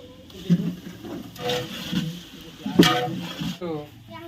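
Ginger garlic paste hits a hot pan with onions and sizzles while being stirred, with scraping and clinks of utensil on pot, and a voice briefly talking near the end.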